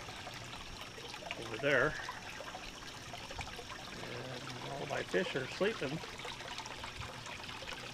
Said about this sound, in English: I've got a pump covered right there with a rock on it. It runs the waterfall